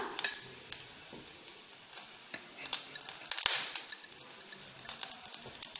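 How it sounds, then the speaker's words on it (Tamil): Cumin seeds sizzle in a hot pan while pear chutney is cooked, a bright crackling sizzle with scattered pops and stirring scrapes, close and moderately loud, with no talking. "இப்படி ஓரளவுக்கு வதங்கினதும் இதுலேயே சீரகம் சேர்த்துடலாம்."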